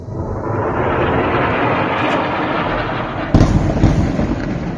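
An Israeli airstrike on Gaza: a continuous, loud, rumbling roar of explosions that holds throughout, with a sharper burst of blasts near the end.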